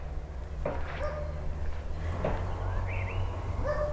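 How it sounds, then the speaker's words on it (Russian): Birds singing in Aivazovskoye park in Crimea, with a few short chirps and whistled phrases scattered over a steady low hum of distant construction noise. "Но пение птиц нескончаемое."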